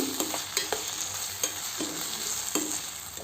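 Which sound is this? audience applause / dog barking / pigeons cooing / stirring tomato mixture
stirring tomato mixture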